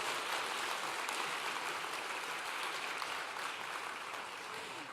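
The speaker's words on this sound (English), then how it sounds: "One more round of applause, please." Audience applause at a 2017 awards ceremony, a steady, even wash of many hands clapping that carries throughout and eases off slightly at the very end.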